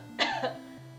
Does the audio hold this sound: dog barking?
no